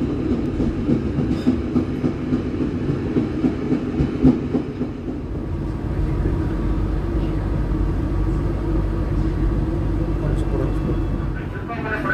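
A train rumbles past at close range with steady low-end roar and faint rhythmic clatter, a red CC 01 8912 locomotive formerly of Sumatra, now under Purwokerto depot ownership, heard near Kroya station in Indonesia; no clear talk over it.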